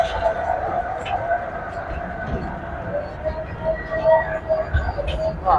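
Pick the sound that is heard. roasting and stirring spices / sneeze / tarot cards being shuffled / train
train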